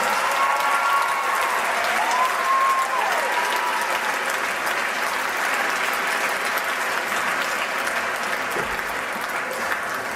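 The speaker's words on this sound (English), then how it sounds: "give a big round of applause to all student officers" Audience applause for student officers at a 2011 closing ceremony, sustained clapping from a crowd over ten seconds with a faint voice briefly audible early on.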